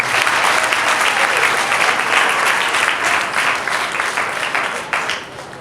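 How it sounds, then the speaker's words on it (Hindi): Sustained audience applause fills a church program at St Clare Parish, Model Colony, Lahore, steady and dense for several seconds before easing slightly at the end. "फादर फैसल के लिए भी भरपूर तालियां।"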